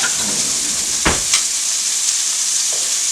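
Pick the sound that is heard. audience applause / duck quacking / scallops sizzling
scallops sizzling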